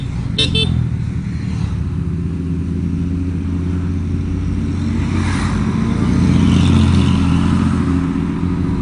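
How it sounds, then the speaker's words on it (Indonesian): Several Bajaj Pulsar motorcycles pass on a winding mountain road, a loud, continuous engine drone lasting throughout and swelling toward the end, with a short horn toot near the start. "Gue kira rombongan moge. Ternyata rombongan pulsar."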